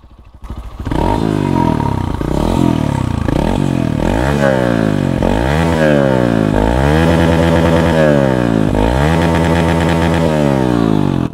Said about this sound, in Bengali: এই ছিল হচ্ছে মোটামুটি বাইকের এক্সজস্টের সাউন্ড।